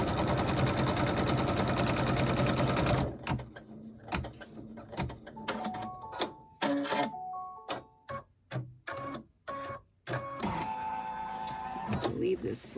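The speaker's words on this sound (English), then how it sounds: "How you're actually stitching out two of them, two of the side pieces." Embroidery machine stitching out side pieces of a table runner: a dense steady whir first, then sparse sharp ticks and short tonal motor hums as the hoop moves, close up.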